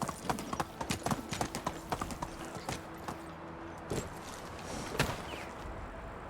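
Donkey hooves clip-clop in the medieval survival game Medieval Dynasty, a steady walking rhythm of sharp close hoof strikes over a continuous outdoor ambience with faint musical tones.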